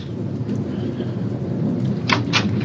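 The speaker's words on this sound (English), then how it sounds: "The rain, it started." Steady heavy rain pours down in a radio drama storm effect, with a couple of brief bright crackles of thunder near the end, loud and continuous with no voices.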